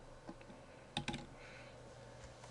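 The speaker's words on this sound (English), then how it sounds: "so I can start typing." A few quick keystrokes tap on a computer keyboard, a brief cluster of close clicks near the middle with a lone soft tap at the end over low room hum.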